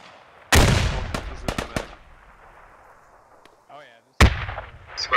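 Gunfire in a multiplayer video game, a sharp loud burst of rapid shots followed by a few spaced cracks, a quieter tail with a brief voice, then another loud shot near the end.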